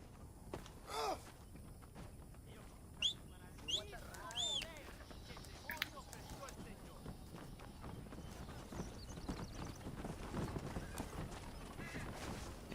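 Horse hooves clip-clop in the western video game Red Dead Redemption, a loose stream of steps with a few whinnies and snorts mixed in, moderately close over a busy background, with someone talking over it.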